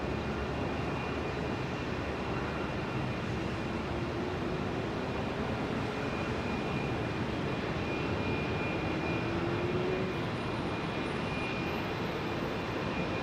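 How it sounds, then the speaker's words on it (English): Early Boeing 777 with GE engines at Heathrow, runway 27R: a fairly faint, steady jet rumble and whine that continues evenly, with a slight rising tone near the end and no voices. "And that is one of the early 777s, I think you'll find, folks. Like what I flew on, with GE power."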